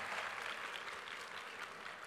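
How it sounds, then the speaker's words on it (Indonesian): Steady applause from an audience of santri at a comedy event with comedians in Malang, dense and even throughout, a wash of many hands clapping at moderate loudness with no voices standing out. "Yang santri boleh tepuk tangan"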